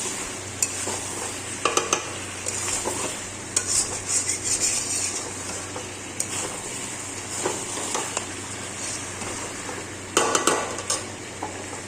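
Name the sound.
stirring whisked yogurt into chicken kosha in a wok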